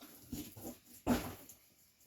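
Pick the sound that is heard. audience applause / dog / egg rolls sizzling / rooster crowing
dog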